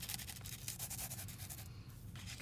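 Soft, close rubbing and light scuffing as alcohol ink is worked by hand into a glitter mermaid tumbler, quiet repeated strokes over a couple of seconds.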